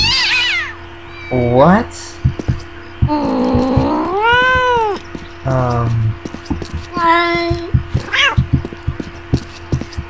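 Cat meowing in the video game Postal 2, several loud drawn-out meows and caterwauls in bursts with gaps between them, close and clear, while a person briefly speaks.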